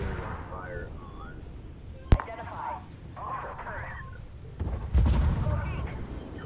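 Al-Hussein tank cannon firing in the game Armored Warfare: one sharp, sudden blast followed later by a heavier booming rumble, set under ongoing talking and in-game radio chatter.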